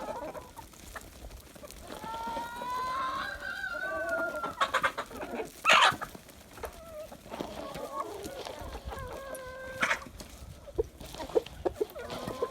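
Chickens cluck and squawk close by as they peck at soldier fly larvae treats, with busy overlapping calls and a sharp burst midway, while a person talks intermittently underneath.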